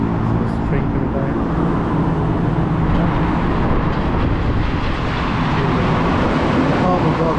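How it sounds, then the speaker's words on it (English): A train passes along a city street in Santiago with a steady, dense low rumble and rolling mechanical noise, loud and continuous, mixed with traffic-like roar. "So there's a train coming down."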